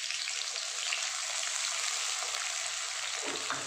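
Finely chopped ginger fries in hot oil for chowmein, a continuous even sizzle like light rain, close and steady with no voices.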